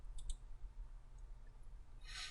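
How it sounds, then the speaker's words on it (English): A computer mouse's right button is clicked during a CAD software demonstration, giving two faint, quick clicks near the start against a quiet background. "Here's an example of right mouse clicking so that you can choose the most appropriate object"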